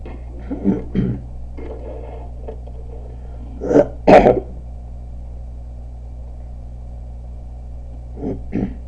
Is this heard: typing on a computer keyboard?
no